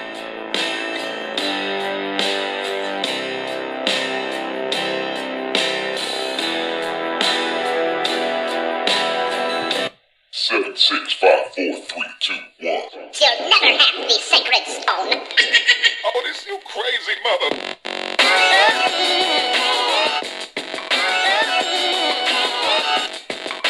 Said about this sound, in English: I have a little MP3 player playing some royalty free music here.